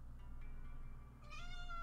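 A pet cat yowls loudly indoors, a drawn-out wavering meow that rises in pitch toward the end and sounds close and alone.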